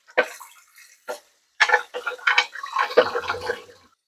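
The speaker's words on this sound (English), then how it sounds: "You got to kind of run water to the bottom." Tap water runs over a slow juicer part during rinsing, an uneven splashing wash that starts and stops in bursts, close by.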